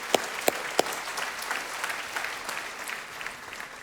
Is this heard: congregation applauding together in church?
yes